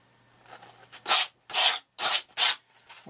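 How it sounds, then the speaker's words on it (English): A hand rubbing over a sculpted surface to smooth it out, heard as four close, dry rasping strokes after a few softer faint rubs. "I'm just going to rub over it a little bit to smooth it out"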